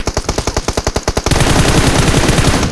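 Rapid automatic gunfire in PUBG Mobile: a dozen evenly spaced loud shots for about a second, then a dense, continuous roar of overlapping fire.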